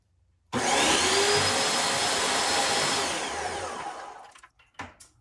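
Project Painter Plus paint sprayer pump switches on abruptly and runs as a loud, steady whir for about four seconds, then cuts off, leaving a few faint clicks.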